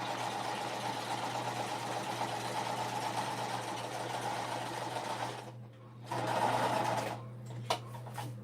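A sewing machine stitches the lining of a peek-a-boo beauty bag, humming steadily and fairly close with a continuous motor drone, then pausing briefly and restarting before a few short bursts near the end.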